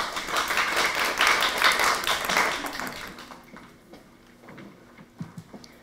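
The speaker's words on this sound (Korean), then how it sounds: "여러분 박수로 맞이해 주시면 감사하겠습니다" An audience at a forum on cutting sodium and sugar in processed foods claps to welcome a speaker, a moderate round of applause that thins into scattered claps and quiet.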